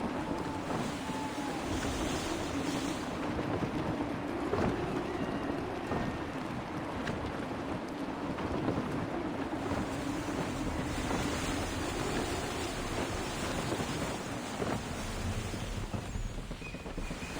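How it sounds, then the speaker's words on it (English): In the Assassin's Creed 3 video game, gusty wind roars at sea as a sailing ship moves through waves, with steady, loud wind noise and surging water throughout, and no voices. "Gusty winds can be difficult to manage."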